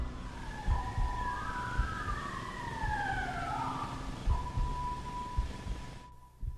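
A faint siren wails in the distance, its tone sweeping up and down in slow rising and falling cycles over a quiet background hum.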